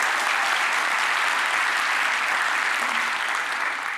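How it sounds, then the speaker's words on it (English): Dense, sustained applause from an audience at a London science comedy night, a loud crowd clapping evenly throughout with no break. "the applause doesn't matter"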